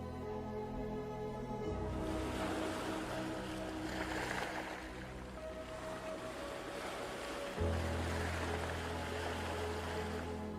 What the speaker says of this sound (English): the fragile sedimentary rock is still being cut away by waves